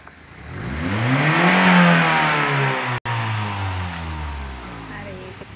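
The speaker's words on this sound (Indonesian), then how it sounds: "Jangan lupa RPM kita ganjel di 2000 agar daya hisapnya kuat." A 2016 Honda Brio engine revs up and is held around 2000 RPM, a loud close mid-pitched drone that swells and then settles into a steady hum, with a brief dropout midway.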